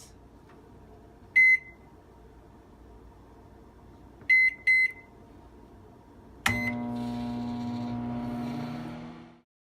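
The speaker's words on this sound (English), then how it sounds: "now I'm going to put it back in the microwave for the 30 seconds" A microwave oven gives a single beep, then a quick double beep, a button press, and its low steady hum runs for several seconds before stopping while reheating keto fathead pizza dough.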